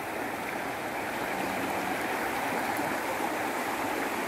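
A river flows with clean water, giving a steady, broad rush that fills the scene continuously, with no voices over it.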